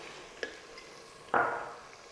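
Onion tossed into a pan of frying vegetables for Gujarati undhiyu, giving a sudden sizzle burst that fades, after a faint earlier clink of utensils.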